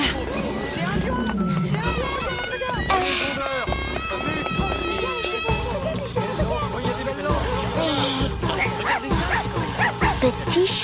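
A small cartoon dog in a French animated film barks, yips and whimpers in quick bursts over busy music and excited voices, the yaps coming close and repeated throughout.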